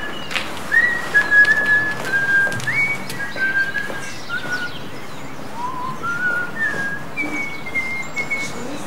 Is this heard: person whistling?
yes